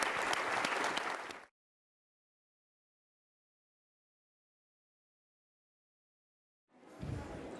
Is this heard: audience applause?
yes